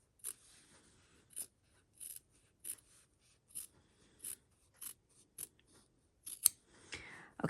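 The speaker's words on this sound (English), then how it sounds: "now we've trimmed down all of that seam allowance" Sharp scissors trimming the fabric seam allowance on bias binding for an 18th-century pocket: a steady series of about a dozen crisp, close snips spaced roughly evenly, with faint fabric rustle between cuts.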